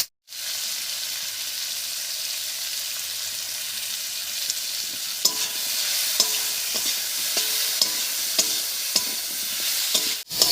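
Fresh garden tomatoes with salt and turmeric fry in a pan with a steady hiss, while regular spatula strokes scrape through the sizzle in the second half.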